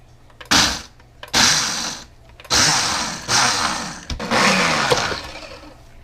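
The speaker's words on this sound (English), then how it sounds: "This blender, I think there's probably other things that would work better, but that's what I had." A blender grinds walnuts for fishing bait in four loud pulsed bursts, each a rattling, crunching whir, with short quiet gaps between them.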